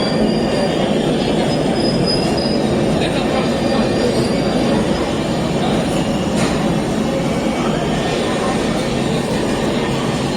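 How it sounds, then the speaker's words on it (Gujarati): Sayaji Express passenger train rolling along the rails, a loud, steady close rumble with grinding wheel squeal and faint clacking throughout, no pauses. "અને બીજી બાજુ છે સયાજી એક્સપ્રેસ,"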